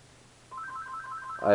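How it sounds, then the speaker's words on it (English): A phone ringtone sounds once: a short repeating electronic trill at steady loudness over a quiet room, ending in a louder burst of noise. "My phone rang"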